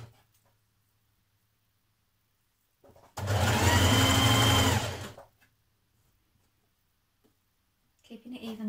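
Domestic sewing machine stitching a blouse sleeve seam at a 1.5 cm allowance, a single fast whirring burst of about two seconds with quiet before and after.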